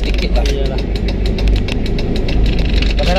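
A Toyota Kijang LGX diesel engine revving up from inside the car, a loud, rough, throbbing clatter with steady rhythmic pulses, close and continuous.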